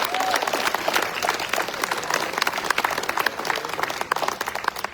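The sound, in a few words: audience applause for the kitchen committee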